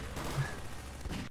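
Machine gun fire in Garry's Mod rattles as a dense, sustained burst for a little over a second, loud and close, then cuts off abruptly.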